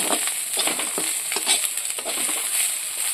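Fish pieces rubbed with turmeric and salt fry in a pan with a bright, constant sizzle up close, while soft scraping strokes and small crackles come through in an uneven rhythm; no voices.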